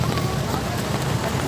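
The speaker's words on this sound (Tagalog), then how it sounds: "Nabasa na taon, kay kaulan." Rain falling steadily in Cebu, a dense even hiss of drops on surfaces without pause.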